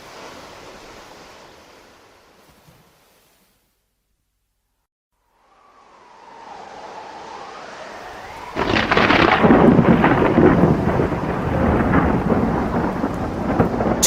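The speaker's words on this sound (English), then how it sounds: "Two hours later, it starts to rain." Heavy rain pours down and thunder rumbles loudly. The sound fades into near silence, then a low rolling rumble builds and swells into a downpour with crashing thunder.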